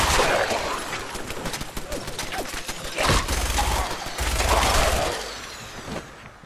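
Enemy gunfire in the video game Fallout 4: dense, rapid bursts of shots and heavy booms rattle on for several seconds, loud and close, with no voices over them.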